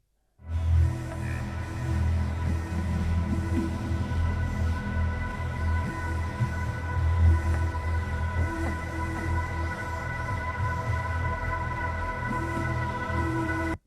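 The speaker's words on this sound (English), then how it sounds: "And then we have a drone underneath." A single-note drone sample from the Blent series hums steadily for over ten seconds, with a low, dense body and shifting, shimmering overtones giving constant movement; moderately quiet, with no voices.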